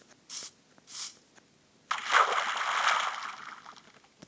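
Water sloshing and splashing in Minecraft, a short burst of two soft splashes followed by a longer, fuller wash of moving water that holds steady and slowly fades.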